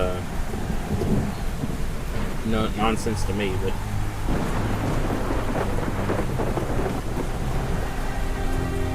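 Thunder rumbles over steady rain in the video game The Perils of Man, a loud, dense storm bed with rolling low booms, heard under someone talking.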